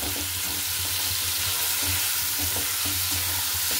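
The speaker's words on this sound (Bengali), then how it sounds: "ভাজা প্রায় হয়ে এসেছে, আর একটু ভেজে নিই" Ridge gourd and potato pieces fry in a pan with a steady, close sizzle and occasional stirring scrapes, continuous and even throughout with no voices.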